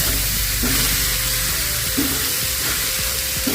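Choila is stirred in hot oil in a pan, giving a steady loud sizzle with a few soft scraping strokes of the stirring, and no talk.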